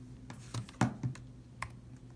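A computer keyboard clicks as a short file name is typed: a handful of quiet, uneven key taps over about two seconds, close and isolated.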